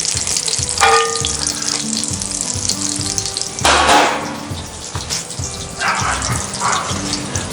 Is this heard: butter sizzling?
yes